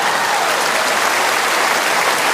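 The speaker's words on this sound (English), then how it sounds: "Give her a round of applause." Steady, dense audience applause at a live comedy debate in a theatre, loud and continuous throughout with no talk over it.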